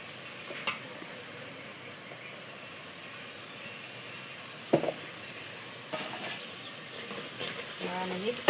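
Sliced onions sizzle in a pan as turmeric is stirred in, a steady soft frying hiss with a few scraping stirs and clinks of the spoon, close and fairly quiet.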